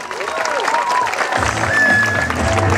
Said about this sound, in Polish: No i kochani, wielkie brawa.